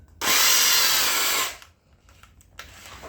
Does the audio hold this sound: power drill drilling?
yes